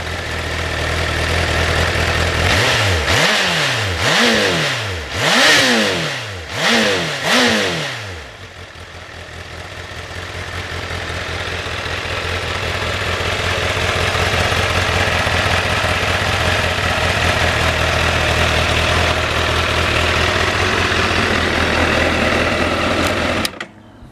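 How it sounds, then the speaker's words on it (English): A Honda CBR 1000 RR Fireblade's exhaust blips through several sharp revs, rising and falling in quick succession, then settles into a steady, loud idle that runs on alone before cutting off. "Give that exhaust one more blip for you."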